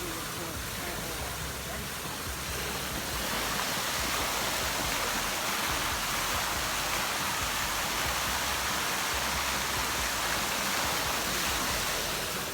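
Steady, dense rushing water roars continuously, a broad unbroken wash like a waterfall heard up close.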